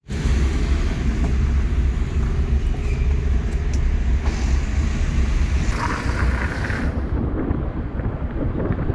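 A Ferrari car driving, heard from inside as a steady loud low rumble of road and engine noise with wind buffeting the microphone, continuous for several seconds.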